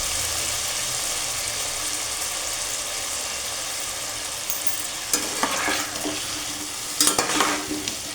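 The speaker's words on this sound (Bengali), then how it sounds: "এবার আলুগুলোকে আমি ভালো করে ভেজে নেব।" Potatoes sizzle steadily in hot oil in a pan, seasoned with salt and turmeric, with a few louder stirring scrapes and crackles near the end; no voices.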